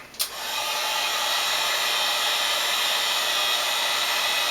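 A heat gun blows steadily onto cut EVA foam, a loud, constant airy whoosh starting with a short click and running unchanged to the end, with no talking.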